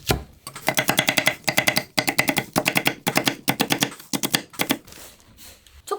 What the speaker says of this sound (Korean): 대파는 흰 부분만 그냥 어서더서 썰어주세요.